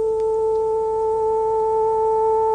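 A steady pure tone built from a fundamental with its second harmonic layered on top, held evenly and loudly with no other sounds around it.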